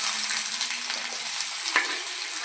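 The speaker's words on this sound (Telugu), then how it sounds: "ఇప్పుడు ఉల్లిపాయలు ఫ్రై చేసేసుకుందాము" Onions frying in hot oil in a pan, producing a continuous bright sizzle and crackle, close and steady for a couple of seconds.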